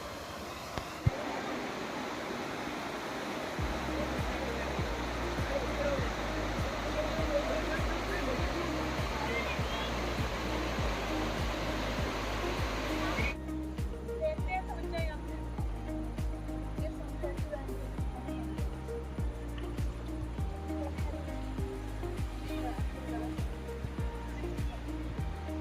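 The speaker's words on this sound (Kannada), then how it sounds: "ಈ ರೀತಿ ನೀರು ಹರಿದು ಹೋಗ್ತಾ ಇರೋದಕ್ಕೆ ಒಂದು ಒಳ್ಳೆ ಪ್ಲೀಸೆಂಟ್ ಸೌಂಡ್ ಇರುತ್ತೆ ಥ್ರೂ ಔಟ್" Water flows steadily through the forest park at Panchavati Vana, Bhimkol, Karwar. A constant broadband rush runs the whole way, joined after a few seconds by a rhythmic, bass-heavy pattern of low tones, likely music.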